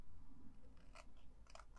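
Scissors cut through cardstock with a few quiet, crisp snips, close but faint, spaced unevenly across a short span.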